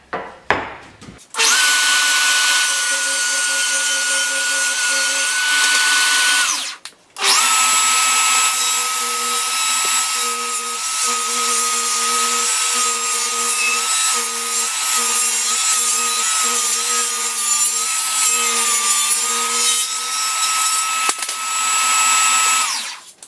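A table saw cuts a rebate into a wooden workpiece for a chisel holder: two long, loud passes of steady motor whine with a cutting tone, separated by a brief pause, with no talking.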